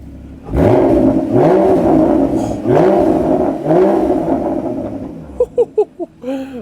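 A Porsche Cayman GT4 engine is revved repeatedly up close, loud rising and falling sweeps over a steady idle, ending in a quick series of sharp blips.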